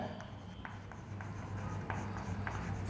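Pen or chalk scratches out a handwritten equation in short strokes and taps, with faint, close scraping pauses between marks and no voice over it.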